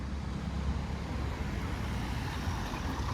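Street traffic in Tomar, Portugal, near a riverside bridge lined with restaurants: a steady, moderately loud rumble of passing cars and vehicles with no break or voices.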